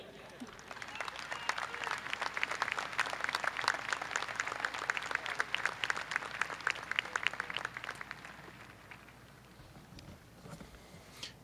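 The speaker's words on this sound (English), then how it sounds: "In the words of Jeb Bush, please clap." An audience at a 2017 Clear Springs High School graduation claps at a distance, the applause building into a dense patter and then fading to faint room noise.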